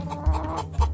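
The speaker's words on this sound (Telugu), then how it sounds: "ఒక కోడి పుంజు కనకం మొక్కల్లోకి దూరింది" A rooster clucks close by in a short, loud burst of throaty calls, with two deeper pulses standing out, and no voices.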